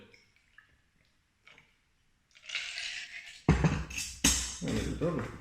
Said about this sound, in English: And just pour it